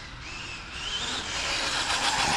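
An Arrma Limitless 8s RC car on a speed run, its electric motor whining and rising in pitch as it accelerates, the high whine building steadily and loud over a rushing background roar.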